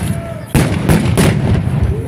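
A single loud, deep cannon boom at a reenactment of the 1612 battle bursts out suddenly, followed by a rumbling roar that carries on heavily without fading.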